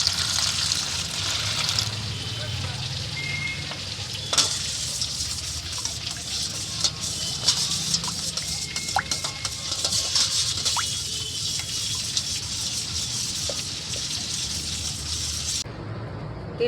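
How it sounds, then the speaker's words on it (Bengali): Water pours steadily into a cooking pan, a continuous close rush and trickle that runs unbroken for most of the stretch before stopping abruptly near the end. "আর দেবো একটু জল"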